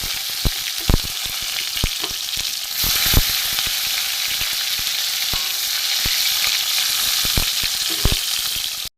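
Chopped tomato hits hot oil with a bay leaf, dried red chilli and whole cumin, giving a loud, steady sizzle that swells around the third second, with scattered sharp pops and spatters throughout and no talking.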